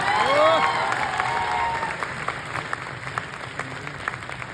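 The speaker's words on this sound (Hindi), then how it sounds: "बजाओ ताली, डायमंड बन गया यार।" An audience claps and cheers at a business achievement celebration. The loud applause with shouts rises at once, then thins into scattered, steady clapping under faint voices.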